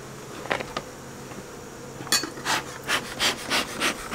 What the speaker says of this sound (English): that bee's not liking me